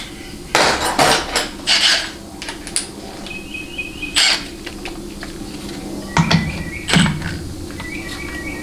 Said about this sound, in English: So just take a punch from the back side and kind of just push it out